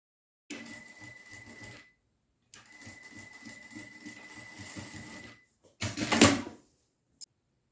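A sewing machine stitching a bag seam runs in two steady bursts of rapid mechanical clatter separated by a short pause, followed by a louder, harsher burst and a final small click.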